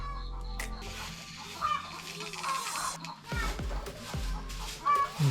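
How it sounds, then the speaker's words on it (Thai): Chickens cluck on a cloudy, cold mountaintop in a village in Laos, giving faint intermittent calls over outdoor background noise, with a few brief knocks and rustles. "ไก่ร้องเข้ารังบนยอดเขานี้"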